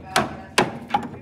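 Three sharp metallic-woody knocks from a small hammer on a 1962 Ford Thunderbird part, evenly spaced about half a second apart, close by.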